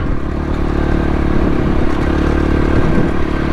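A small off-road motorcycle plods along at low revs, its engine chugging steadily and close, with clattering and scraping from the trail mixed into the loud, continuous sound.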